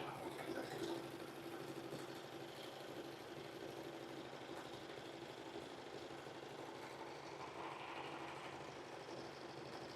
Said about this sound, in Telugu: ఇది పీకో మిషన్